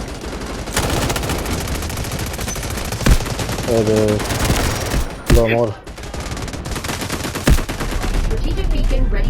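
Rapid automatic gunfire in the video game Delta Force, loud sustained bursts with a few sharper shots, while someone talks over the action.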